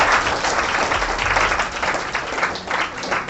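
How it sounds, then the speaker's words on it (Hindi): Strong, steady applause from a crowd of students for a student, Vishal Kumar, continuous clapping filling the whole moment. "विशाल कुमार के लिए एक बार जोरदार ताली होना चाहिए"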